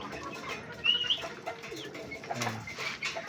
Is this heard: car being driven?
no